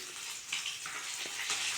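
Steady crackling sizzle of fish frying in hot oil, close and continuous, with a few small pops and stirring clinks.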